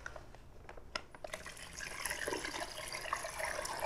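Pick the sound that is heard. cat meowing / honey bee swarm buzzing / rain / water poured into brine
water poured into brine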